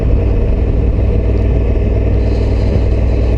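Honda Africa Twin Adventure Sports motorcycle engine while riding, a steady loud low rumble with road and wind noise, continuous and close, no voices.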